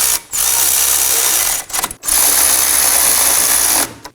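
Ratchet tightening the brake caliper bracket bolts on a 2016-2020 Kia Sorento, a fast, steady metallic clicking in two long bursts separated by a short pause, close and loud with no talking.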